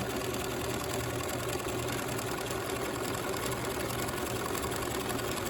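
A sewing machine stitching a landscape fabric postcard runs continuously and close, a steady rapid mechanical whir and chatter of the needle with no pauses for the full stretch.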